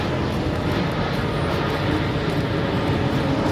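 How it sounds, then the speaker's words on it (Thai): An airplane passes low over an open-air market in Lad Krabang, a steady loud broad roar of jet engine noise filling the whole stretch with no talk over it. "มีเครื่องบินมาอีกแล้วครับ"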